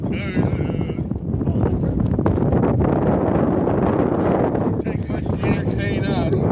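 Steady gusts of cold wind buffeting the microphone with a continuous roar outdoors, while people talk and turkeys call faintly in the background.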